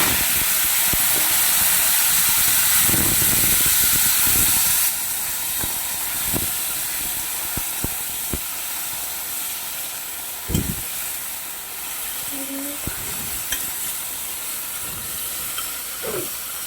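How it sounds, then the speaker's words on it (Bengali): Crabs dropped into hot oil, bursting into a loud hissing sizzle that eases into a steadier fry, with scattered spits and pops and occasional knocks of a utensil. "তো তেলগুলো গরম হয়ে গিয়েছে বন্ধুরা তো এখন কাঁকড়াগুলো আমি ছেড়ে দেবো এখন ছেড়ে দিচ্ছি"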